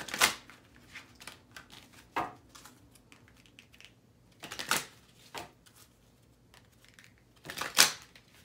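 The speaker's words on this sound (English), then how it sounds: "these cards feel off. One sec here. Need to reshuffle." Tarot cards being reshuffled by hand, a series of soft riffling bursts and taps, with the loudest rushes near the start, middle and end and quiet gaps between.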